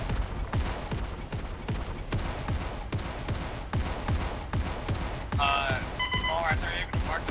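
Distant gunfire from a military base in Arma 3 rattles in a steady, rapid rhythm of repeated shots. A few brief electronic tones chirp near the end.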